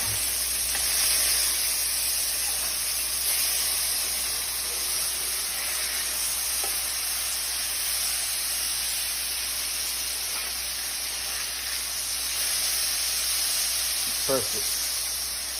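Burgers frying in a pan make a steady, even sizzle and hiss that runs throughout at moderate loudness, with a few faint clicks and no talking.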